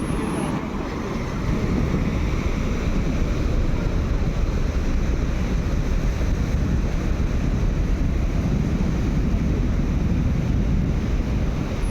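Sea waves at Padinjarekkara Beach in Ponnani, where a river flows into the sea beside a rock-lined shore, make a steady, unbroken roar of surf mixed with rumbling wind on the microphone.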